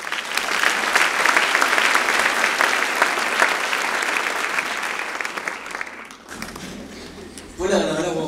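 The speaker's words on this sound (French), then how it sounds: "Sous vos applaudissements." Ceremony audience applauding steadily and loudly for about six seconds, then the clapping fades out and a voice begins speaking at the end.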